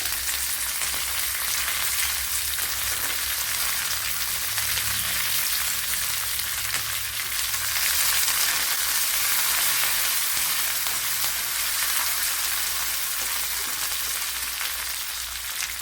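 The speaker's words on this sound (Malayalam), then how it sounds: "കറി ലീവ്സ് ഇട്ട് കൊടുക്കുക അതേപോലെ മല്ലിയില" Curry leaves and coriander leaves sizzle steadily in a hot pan of oil while a pumpkin pulissery is being cooked, a loud, continuous close-up frying hiss with no talk.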